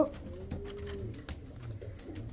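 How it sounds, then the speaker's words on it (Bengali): Indian Kaldom pigeons coo softly in a low, throaty murmur, steady and fairly close across a short stretch, with a few faint shuffles and no talking. "তাছাড়া পাশাপাশি আরেক জোড়া কালদম কবুতর আছে"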